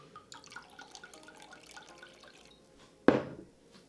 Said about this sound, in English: I'm going to add 1 cup of the non-alcoholic wine